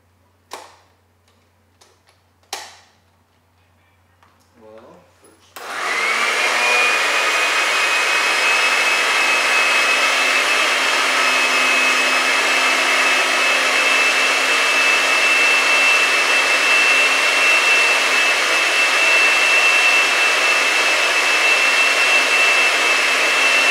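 Blender mixing a healthy protein energy shake: a few clicks and knocks, then the motor starts and holds a loud, steady whir at close range until the end, with no talking.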